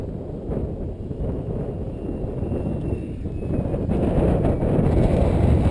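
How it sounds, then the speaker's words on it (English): Gusty wind roars steadily across an open flying field where a model Sbach 342 aerobatic plane is being flown, a loud rushing buffet on the microphone that swells stronger toward the end. "Wind is just blowing it too hard. It's hard for me to keep it steady in this wind."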